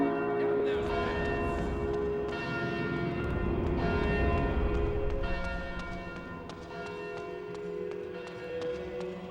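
Bells ring out in the video game Blood Omen 2, a dense, resonant pealing with layered ringing tones that sustains for several seconds at steady loudness and fades slightly toward the end.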